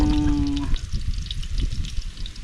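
Onion, garlic and tapalang fry and sauté in a pan, a dense steady sizzle and crackle close by, with a brief tonal whine at the start.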